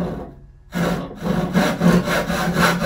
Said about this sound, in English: I can get pretty good at following that line with a handsaw